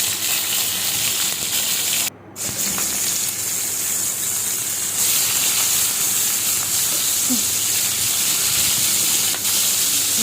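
Hilsa fish head and tail pieces sizzle in hot oil in a frying pan, a loud, steady hiss that drops out briefly near the start before resuming, with no talking.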